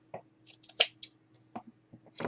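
Scissors cutting fabric for a shabby chic pocket wall hanging, several close, crisp snips and blade scrapes spaced irregularly in a quiet room.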